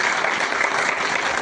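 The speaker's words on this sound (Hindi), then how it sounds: "जोरदार तालियां" A school award ceremony audience claps for a student honored for high marks, a short, even burst of dense applause from many people with no talking.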